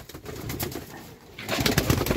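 Red moti pigeons, a breeding pair with two chicks, give soft, close coos in short bursts, with a brief quieter gap before the cooing picks up again.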